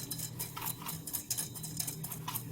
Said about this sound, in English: I'm going to whisk it all together